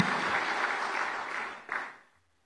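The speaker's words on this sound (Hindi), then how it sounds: "जोरदार तालियों के साथ पुनः अभिनंदन।" Applause from the audience at a formal convention address, a steady wash of many hands clapping for about two seconds with a brief final swell before it cuts off.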